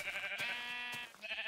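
Sheep bleating in the Minecraft video game, a few wavering game bleats at moderate level with no talk over them.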